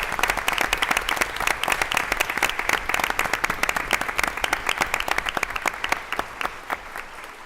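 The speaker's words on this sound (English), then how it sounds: "So, if you'd please all join me for a round of applause to let our teachers know how grateful we are" A school board meeting audience gives a sustained round of applause for teachers, dense steady clapping from many hands that tapers slightly toward the end.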